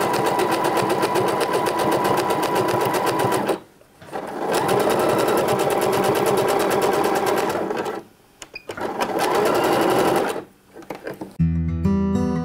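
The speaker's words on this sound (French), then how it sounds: "donc un point zigzag qui lui, donc il va être le long de la couture de côté, qui lui va bloquer l'élastique" A sewing machine runs a zigzag stitch along the side seam of a pair of trousers, tacking down the elastic. It whirs loudly and steadily in three long bursts separated by brief pauses, with a short clatter at the end.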